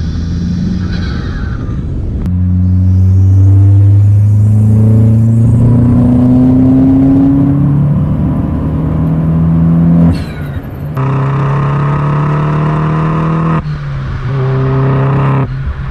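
An Opel Corsa D OPC's 1.6-litre turbo engine, tuned to 241 hp, revs up hard several times, its pitch climbing and falling with a throaty turbo whine, loud and close.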